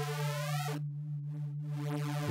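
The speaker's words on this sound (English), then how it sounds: "For example, you have the harmonic stretch that sounds like this." Vital software synth with its harmonic stretch warp: a sustained, buzzy tone with a steady low fundamental whose upper partials sweep and shift, then briefly thin out before the bright sweep returns.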